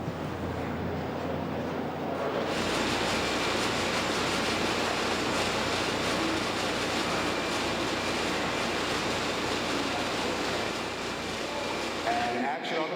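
Subway train roaring into a station in a Die Hard with a Vengeance film scene, a dense, loud, sustained rumble that kicks in abruptly after a quieter opening and cuts off sharply near the end.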